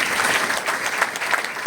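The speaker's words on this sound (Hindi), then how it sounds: "एक बार जोरदार तालियां बजाऊंगा" An audience at an RCM business seminar bursts into loud applause, a dense, continuous wash of clapping with no voices.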